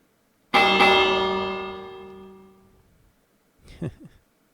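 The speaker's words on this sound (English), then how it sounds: "Hitting the bell." A bell struck once in the Minecraft video game rings out loud and bright, its tone slowly fading over about two seconds, followed by a short second sound.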